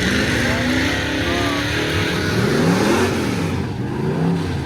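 A yellow Camaro fitted with a Trailblazer inline-six and a big turbo revs steadily and loudly at a drag-and-drive event, its engine note rising and falling over a dense background roar, with voices faintly underneath.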